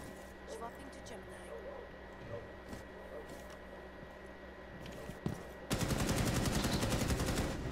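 Automatic gunfire in a tactical shooter video game breaks out near the end, a dense loud burst of rapid shots after quieter game ambience with players chatting over it.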